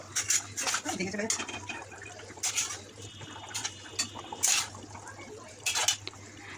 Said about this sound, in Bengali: এবার আমি এখানে ভাজা মাছগুলো দিয়ে দেব।